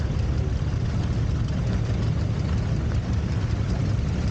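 A Ford 800 tractor engine runs steadily at a tractor show, a deep continuous rumble with an even throb and no pauses.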